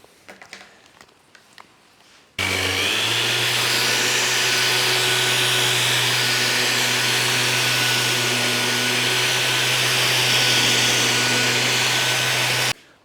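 Power sander running steadily on a live edge wooden desk top, a loud continuous whine that starts abruptly after a couple of seconds of quiet handling noise and holds near and unbroken until it cuts off at the end.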